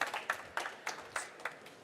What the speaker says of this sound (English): please give them a big round of applause as they come up on the stage